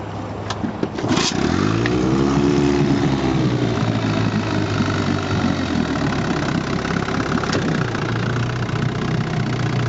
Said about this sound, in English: This motor idles just fantastically. It'll run all day long like this.